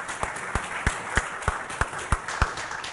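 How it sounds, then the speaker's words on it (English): Scattered, fairly faint clapping from an audience at a panel discussion on privacy and big data, with a few distinct claps standing out over a thin room hum. "I think the applause is well-deserved."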